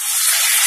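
Bay leaves dropped into hot oil with dried red chilies for a chicken curry, a short bright burst of loud sizzling hiss.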